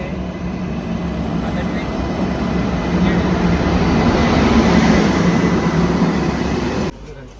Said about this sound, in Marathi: ट्रेन यायची घाई झालेली आहे